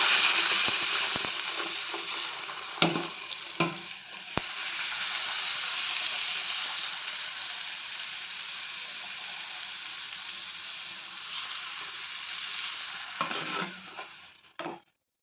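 Puri fries in hot oil with a steady, close bubbling sizzle that runs throughout. A few sharp clicks and taps of a utensil break in near the start and the end, and the sound cuts off abruptly.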